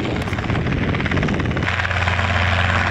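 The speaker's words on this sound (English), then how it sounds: "comes our helicopter." A helicopter passing close overhead, its loud, rapid rotor chop pulsing steadily with a dense engine roar that shifts in tone partway through as the aircraft moves past, with no talking.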